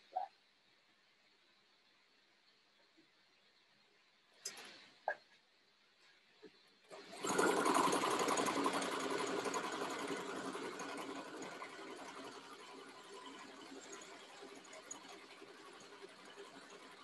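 Domestic sewing machine stitching a buttonhole on a boy's dress shirt, a steady mechanical whirr that starts after a few faint clicks and runs continuously, close and moderately loud.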